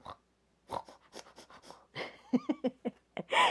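Children imitate dogs snoring with a series of short, breathy snorts and pants in a quiet room, with a few soft voices and giggles mixed in.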